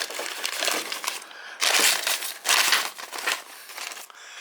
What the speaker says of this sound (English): Okay, so we got a plastic bag here.